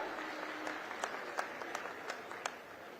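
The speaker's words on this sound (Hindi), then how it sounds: "सब मंचस्थ अतिथियों के लिए जोरदार ताली बजा के स्वागत कर दो" A crowd at a farmers' public event with the chief minister applauds to welcome the guests on stage: quiet, distant clapping with a few sharper individual claps standing out over a low hall murmur.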